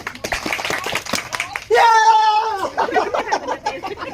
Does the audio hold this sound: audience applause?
yes